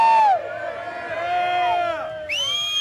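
A crowd cheering and whooping at a ladies' pudding wrestling match in a saloon, loud layered shouts and yells with voices calling out over it.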